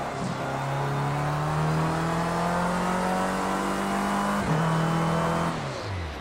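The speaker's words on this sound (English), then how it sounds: "Your engine is on its last legs." Formula C race car engine failing in Project Cars 2 at Donington GP: a loud, steady droning engine note held at high revs, with a brief drop and shift in pitch before fading slightly.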